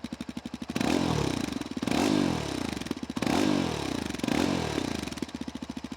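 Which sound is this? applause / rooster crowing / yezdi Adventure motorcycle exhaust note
yezdi Adventure motorcycle exhaust note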